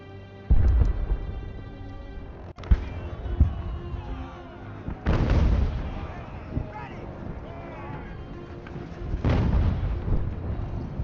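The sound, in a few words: artillery fire in video game Ultimate General: American Revolution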